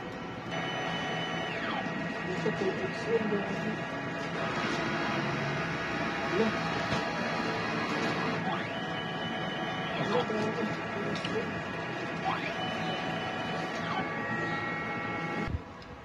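A Honjet XP600 30cm DTF printer running a head clean whirs and hums steadily with mechanical servo sweeps and clicks as the head moves, while a person talks over it throughout.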